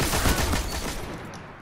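Dense burst of rapid gunfire in the video game Destiny during a Skirmish match, loud and continuous, then fading slightly toward the end.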